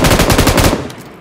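Sustained automatic fire from an M249 light machine gun in PUBG Mobile, a rapid, loud, evenly spaced burst of shots that breaks off after about three quarters of a second and leaves a short fading tail.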